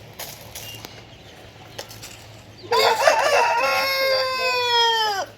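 A rooster's long, loud crow bursts out midway through and holds for a couple of seconds, after a few faint clicks and light background noise in a yard where hens and roosters are kept.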